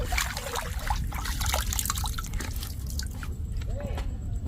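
Water drips and trickles into a natural rock spring on a hill fort, scattered splashy drops over a continuous low watery background, close by, with faint voices in the background.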